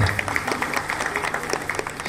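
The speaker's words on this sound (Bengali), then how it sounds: "এটার জন্য একটা হাততালি হয়ে যায়" A studio audience on a Bengali talk show breaks into brief, steady applause, a dense patter of many hands clapping together.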